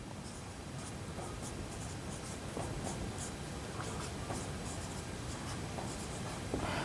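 A pen scratches steadily across paper while a maths problem is written out, a continuous close scraping with small strokes over soft background hiss, no voices.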